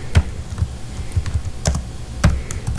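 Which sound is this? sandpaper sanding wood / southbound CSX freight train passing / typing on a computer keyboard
typing on a computer keyboard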